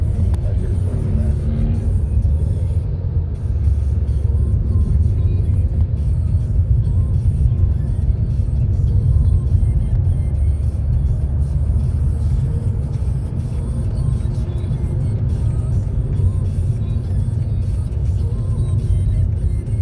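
A BMW self-driving car fitted with Aptiv technology cruises through Las Vegas, giving a steady low engine and road rumble that runs unbroken throughout, with a faint voice briefly at the start.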